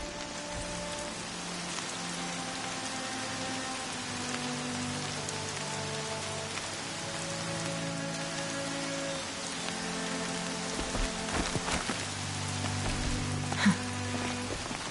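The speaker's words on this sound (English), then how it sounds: "Rain's not so bad." Steady rainfall patters on surfaces in the video game Horizon Zero Dawn, a dense, even hiss of drops with faint musical tones beneath and no talking.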